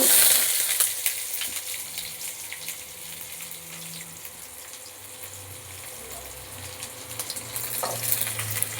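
Chopped onion frying and being stirred in a pan with a dried red chilli and black cumin, cooking for a Bengali beto shak and potato dish; a steady close sizzle with faint scraping, no talking.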